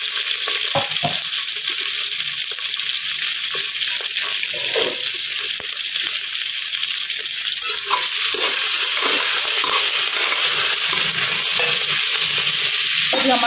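Green chillies and large potato pieces fry loudly in a pan, a dense continuous sizzle with scattered pops and spatters, close up and with no talking.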